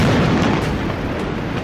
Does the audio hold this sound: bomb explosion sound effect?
yes